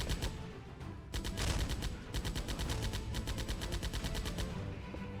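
Rapid gunfire from the VR shooter game Cargo Cult, with loud, fast automatic bursts in several runs packed over a dense, continuous game soundscape and no talking.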